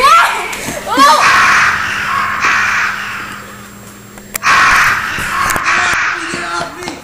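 Crows caw loudly in a frantic swarm as they attack people outdoors, amid screams and panicked shouting, with thuds and flapping mixed in.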